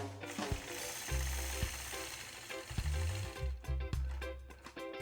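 A quilting sewing machine stitches a curved line against a ruler: bursts of rapid mechanical whirring and clacking start and stop close by, with short pauses between runs.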